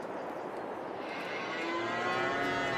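Cows moo in Farming Simulator 22, a drawn-out low call rising out of a steady farmyard ambience, moderately close and with no talking.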